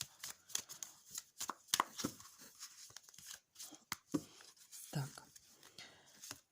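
Tarot cards are shuffled and flipped in quick, crisp bursts of papery riffles and flicks, close up and fairly quiet, with brief pauses between.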